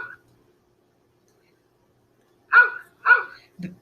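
A dog on a farm gives two sharp barks followed by a short lower yip, close and clear against near silence.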